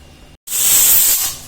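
A pressure cooker of rice on a small gas burner vents steam. There is a brief pause, then a loud, sharp whistle-like hiss that holds for most of a second and then tapers off.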